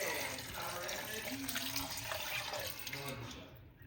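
Broth pours into a dish of stuffing for dressing, making a faint, continuous splashing trickle for several seconds, with a voice speaking softly underneath.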